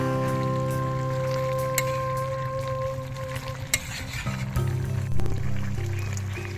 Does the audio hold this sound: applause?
no